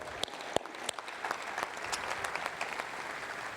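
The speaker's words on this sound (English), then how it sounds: "let's clap on that." An audience at a university football coach's introductory press conference breaks into sustained applause, a dense clatter of many hands with a few sharp claps near the start and no talking over it.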